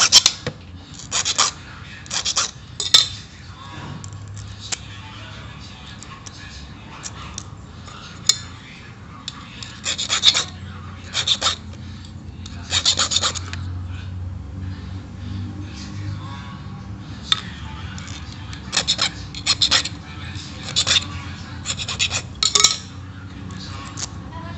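A metal file rasps against the ward of a door knob key, cutting it down so it seats fully in a jammed cylinder; short bursts of scraping strokes alternate with pauses, close and moderately loud over a low hum.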